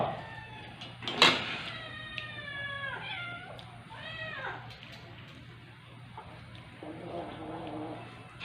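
A house cat meows several times in short, rising calls at moderate distance, with a sharp knock early on and faint voices in the background.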